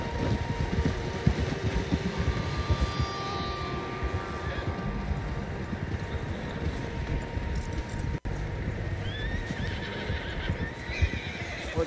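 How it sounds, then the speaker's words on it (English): Horses neigh and whinny in Red Dead Redemption 2 over a steady, dense rumble of hooves and ambient noise, with several calls rising from the busy mix. "Horses, quite a few of them."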